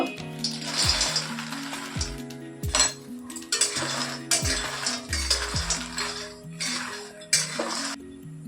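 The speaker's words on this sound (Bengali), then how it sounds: "মাখানাটা আমি হালকা শুকনো কড়াই ভেজে নেব" Makhana is dry roasted in a hot empty wok, heard as repeated metallic scrapes and clinks of a spatula against the pan in an uneven rhythm, with the puffed seeds rattling between strokes.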